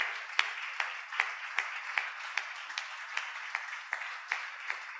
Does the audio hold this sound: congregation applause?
yes